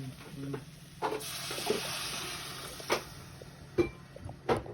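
A little water is poured into a rice cooker pot holding rice, making a soft splashing trickle in a kitchen with a few light clinks and knocks around it.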